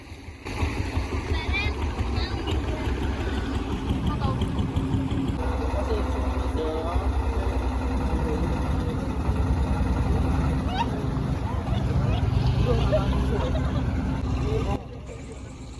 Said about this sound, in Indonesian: Nggak begitu lama kapal kita udah datang.